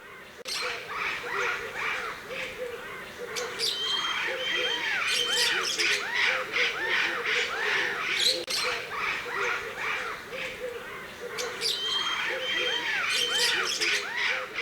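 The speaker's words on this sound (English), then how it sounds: "It was a fisher's lovebird." A flock of Fischer's lovebirds squawks and chatters loudly and continuously at close range, with rapid overlapping shrill calls throughout, at a bird sanctuary where they drink from gutters.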